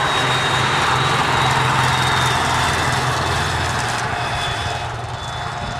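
A motorcycle cruises along Route 11 on the Atlantic coast, its engine droning steadily with heavy wind rush throughout, easing slightly toward the end.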